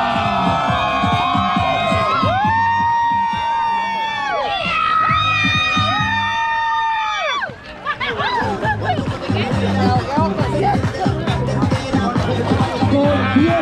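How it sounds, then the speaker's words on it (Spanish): Adults-only resort party crowd in Cancún cheering, shouting and laughing for a contest participant, lively and close, with overlapping voices and whoops over the noise. "fuerte los aplausos a Big Applause"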